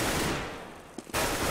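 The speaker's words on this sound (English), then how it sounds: "get some shots through the walls onto Nasu here" Rapid gunfire from the shooter game CS:GO in a pro match, with shots fired through walls: dense loud bursts that fade, then a few brief cracks before the firing resumes at full strength.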